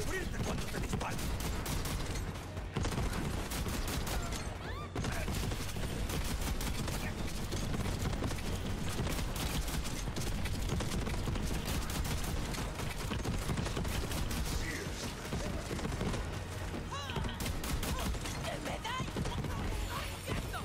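Sustained gunfire in Borderlands 3, rapid bursts and shots layered densely and loudly across the whole stretch, with a voice talking over the fighting.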